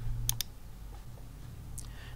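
Two quick mouse clicks near the start while pressing the next button in class-setup software, crisp and close over a low steady hum, followed by quieter faint ticks.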